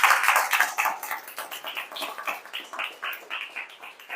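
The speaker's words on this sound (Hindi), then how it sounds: "तालियां होनी चाहिए, जोरदार।" Audience in a hall applauding vigorously at a direct-selling business meeting, a dense, steady wash of many hands clapping throughout with rhythmic swells, fairly close and loud.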